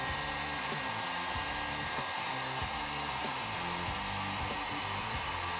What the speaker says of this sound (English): And now we're gonna turn on the heat gun.